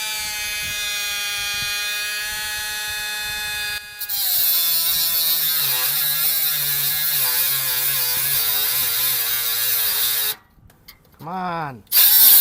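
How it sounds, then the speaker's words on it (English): A small grinder cuts through an exhaust bolt on a 1998 Ford Ranger during a cat-back exhaust install: a steady, high, close whine that wavers and dips under load, cuts out briefly near the end, then spins up again. "But I might try my little grinder first and see what happens."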